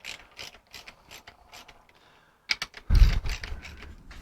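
Ratchet wrench running down bolts on the overdrive unit of a 1955 Triumph TR2. Light, rapid clicking is followed by a louder, rougher mechanical rattle and grind, close up with no talking.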